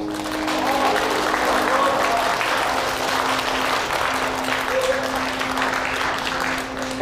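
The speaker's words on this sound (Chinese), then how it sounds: "我们一起掌声见证这一时刻好吗？" Guests at a wedding ceremony applaud steadily as the father hands the bride to the groom, a full, continuous clapping from a gathered crowd that holds for several seconds, with a faint steady tone beneath it.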